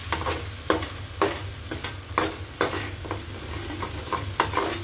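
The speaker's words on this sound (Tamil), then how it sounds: "இப்படி கொஞ்சம் மூடிய திறந்து கொஞ்சமாக கிளறி விடுங்க" Spicy prawn sambal sizzling in a pan while being stirred gently, with repeated sharp scraping knocks of the spoon over a steady low frying hiss; no voices.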